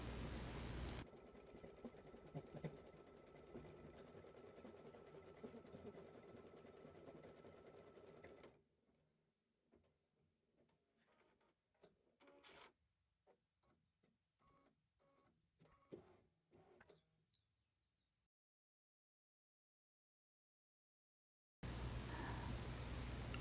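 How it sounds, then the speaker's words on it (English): An embroidery sewing machine stitches a straight stitch onto stabilizer in the hoop, a loud steady whir that drops to quieter irregular clicking and stitching before stopping, then briefly resumes. "I'm stitching just a straight stitch directly onto the stabilizer."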